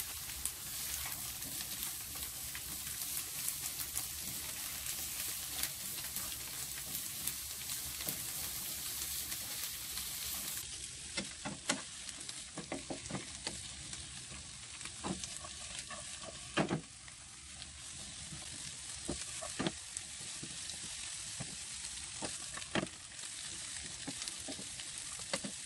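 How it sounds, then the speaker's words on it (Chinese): Celtuce stir-fried in a wok with hard bean curd and preserved radish sizzles in a steady, loud fry, broken by repeated scraping and clacking from the spatula. No one speaks. "落埋啲莴笋落去炒"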